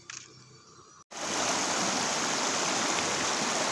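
A river stream at the confluence of a stream from Gunung Pancar with the Sungai Cikeas rushes steadily, a dense, loud hiss of flowing water that cuts in abruptly after a brief quiet, continuous and close with no talk.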